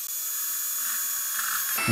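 A steady, high-pitched drill whine bores through plastic, then ends with a sudden thump.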